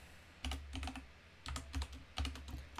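Keys tapped on a computer keyboard in three short bursts of several quick clicks each, close and clear, with quiet pauses between and no talking.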